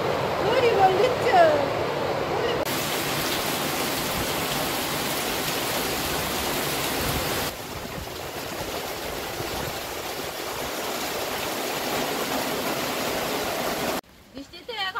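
Heavy rain pours down during a storm in the Sundarbans, a dense continuous roar of water that stays loud and close throughout, cutting off abruptly near the end.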